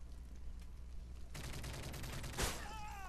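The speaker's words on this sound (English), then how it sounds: "Oh, I just got absolutely pumped with the shotgun." Gunfire in Modern Warfare 3 breaks into a rapid run of close, sharp shots over quiet game ambience, followed by a louder single blast and whistling, sweeping tones trailing away.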